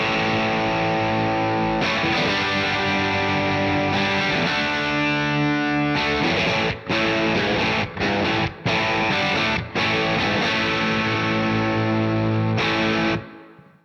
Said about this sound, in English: Let's quickly flick across to the bridge humbucker on the AZES and hear how that compares.